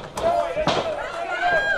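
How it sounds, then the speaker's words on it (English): A wrestler is choke slammed onto the ring mat at a comedy-festival wrestling match, landing with a heavy thud amid crowd noise and an excited commentator. "Choke slams JF. With authority."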